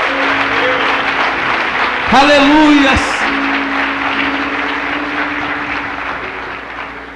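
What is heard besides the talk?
church congregation applauding Jesus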